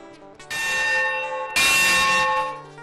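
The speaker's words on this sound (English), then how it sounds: "This bell is from the Manistee and Northeastern Railroad engine, number 18." A locomotive bell from Manistee and Northeastern Railroad engine number 18, the last one built, rings out loudly and close with two strong clangs whose bright metallic tones ring on and slowly decay.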